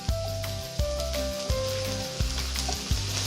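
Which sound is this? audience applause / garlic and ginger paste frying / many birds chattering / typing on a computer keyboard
garlic and ginger paste frying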